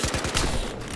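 MAC-10 submachine gun fire in Battlefield Hardline, a dense continuous burst of rapid shots at steady loudness.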